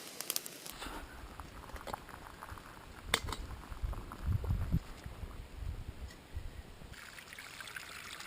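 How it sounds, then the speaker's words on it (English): Water trickles and splashes steadily off a small desert waterfall, slapping against a water bottle, close and continuous, with occasional louder splashes and knocks. "position my water bottle precisely so that the water is pretty much slapping up against the side"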